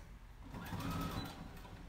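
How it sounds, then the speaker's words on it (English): A sewing machine stitches along the seam allowance of a fabric pillowcase, a soft, quiet steady whirring hum lasting about two seconds, close by with no talk. "I'm gonna stitch on the seam allowance again"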